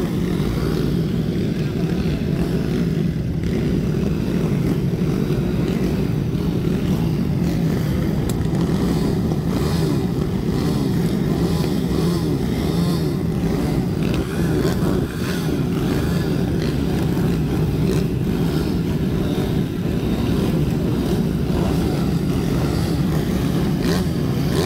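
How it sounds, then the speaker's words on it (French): Motorcycles ride past in a steady, continuous engine drone that holds loud for the whole stretch, with faint voices underneath. "Les motos hein."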